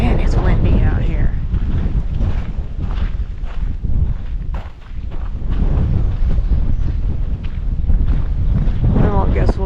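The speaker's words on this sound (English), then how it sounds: "Man, it's windy out here." Strong wind gusting around an abandoned lead mine site, battering the microphone with loud, continuous roaring rumble that swells and dips briefly, with a voice faintly audible beneath it.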